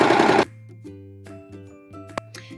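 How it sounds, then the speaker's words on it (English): A serger overlocks fabric panels for sewn underwear, a loud close rattling whir for about half a second, then stopping and leaving a low motor hum with a few faint clicks. "let's run it through the serger."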